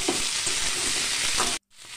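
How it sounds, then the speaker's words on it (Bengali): Vegetables with soft eggplant, seasoned with salt and turmeric, fry in a pan with a steady, loud sizzle and occasional stirring scrapes, then cut off abruptly before fainter sizzling resumes. "এইভাবে ওইগুলো সব ভেজে নেব।"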